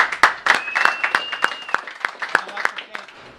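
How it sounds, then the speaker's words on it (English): At a boxing press conference, a modest round of applause breaks out in scattered, distinct claps over a few seconds, with a voice sounding through the middle. "Let's give a round of applause for that."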